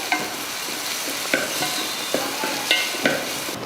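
Chopped onions with spices and curry leaves frying in oil in a kadai, a steady sizzle with periodic stirring clatters every second or so, close and alone.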